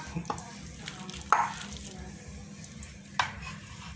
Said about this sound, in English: Make sure you don't use your hands, so you could always use a ladle or a spoon and stamp it out